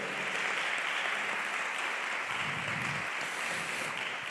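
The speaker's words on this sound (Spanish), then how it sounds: "Dale fuerte un aplauso a Yeshua porque Él se lo ha ganado." A church congregation claps together during a worship service, a dense, steady wash of applause that holds evenly for several seconds without pause.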